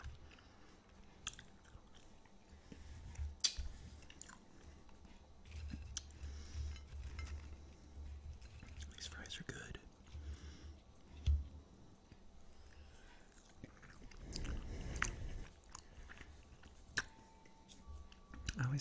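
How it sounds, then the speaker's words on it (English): Close, wet chewing and biting of McDonald's food eaten open-mouthed for ASMR, with soft crunches and occasional faint clinks of packaging or utensils, steady throughout with louder mouthfuls near the end. "I always feel so impolite when I chew my mouth open because I don't normally do that in real life"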